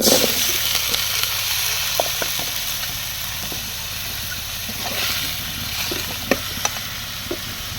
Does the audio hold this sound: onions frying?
yes